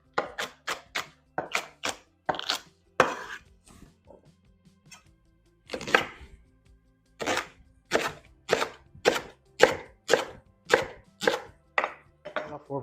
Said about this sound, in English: Then I'm gonna cut my celery.